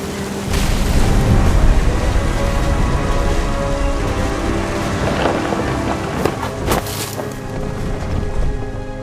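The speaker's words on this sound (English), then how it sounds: "The thunder sounded much too close and full of angry power." Heavy rain and rumbling thunder fill a stormy scene in the video game What Remains of Edith Finch, a loud, dense, steady downpour with low booming rolls throughout and no talking.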